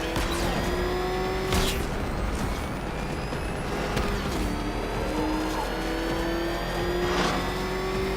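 Car engine racing in the video game Batman Arkham Knight, a steady loud engine drone holding pitch with slight shifts, under continuous road and game noise with occasional whooshing passes.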